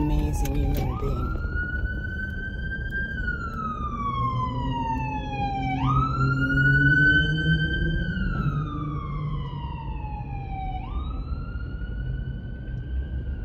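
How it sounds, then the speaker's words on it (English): A loud wailing siren sweeps up and down in long repeating cycles as an emergency vehicle passes close by over steady road rumble. "I just let the ambulance pass."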